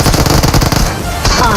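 Rapid automatic gunfire in the BGMI battle royale game, with dense, loud bursts of shots rattling almost without pause, then a brief lull before more firing.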